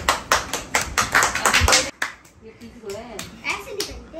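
Children clap at a birthday celebration, a quick run of sharp, close claps over the first two seconds, then scattered lighter claps and taps while voices talk.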